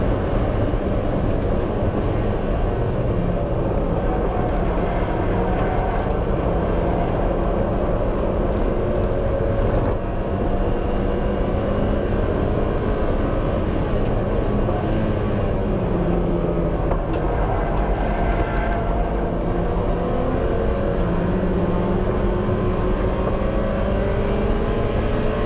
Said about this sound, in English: Three quickest cars in the field have just passed me